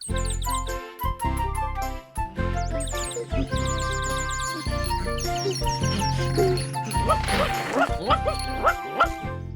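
A cartoon dog in Noddy yips and barks in quick, high bursts over bouncy orchestral music with jingling accents, a busy animated scene with characters' voices around it.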